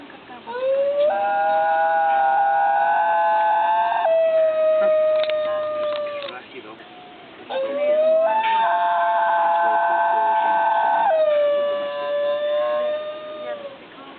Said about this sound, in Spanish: Es único en su habilidad para aullar de forma similar al lobo, pero al contrario que este, Canis Yostromi es capaz de modular el tono